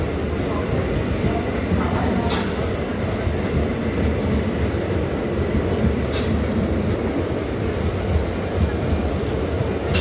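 The Howrah–Chakradharpur express passing Tikiapara station at night, a loud continuous rumble of wheels and carriages rolling close by for the whole stretch, with faint voices under the noise.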